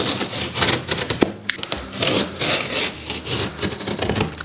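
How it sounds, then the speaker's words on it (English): A blade saws and rips through the side of a cardboard shipping box holding a new Dragon Cruiser city commuter scooter, giving close, steady scraping and tearing strokes with a few sharp snaps and no talking. "I'm going to cut open the side of the box so that way you can actually see inside of it."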